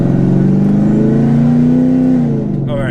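A cammed Dodge Hellcat V8 with an exhaust modified off the headers revs loudly in one long, steady, slowly rising pull that drops away near the end, its deep exhaust drone close and dominant throughout.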